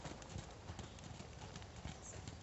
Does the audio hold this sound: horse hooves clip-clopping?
yes